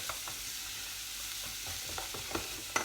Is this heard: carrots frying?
yes